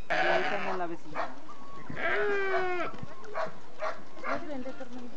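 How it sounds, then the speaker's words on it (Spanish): Sheep bleat several times in a farmyard, wavering drawn-out cries at close range, with a dog-like bark or other animal calls mixed in and people talking nearby. "Sí, son borregos, tienen borrego peligüey."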